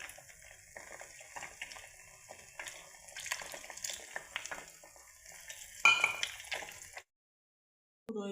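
Onions fry in a pan for an omelette with a faint, steady crackling sizzle and light stirring scrapes, quiet and close, then a brief silence near the end.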